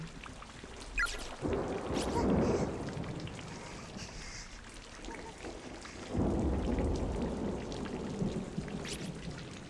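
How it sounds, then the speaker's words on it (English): Steady rain pours in Corpse Party: Blood Covered, with rolling thunder swelling near the start and again later, a continuous loud wash of storm with no talk. "Can't even see the other side of it with all the rain."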